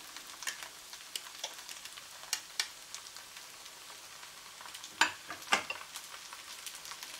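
Glass noodles and tuna tossed in a hot pan for a Thai-style dish with vegetables, giving a steady soft sizzle broken by scattered scraping stir strokes, with two sharper clacks near the end, close and fairly quiet.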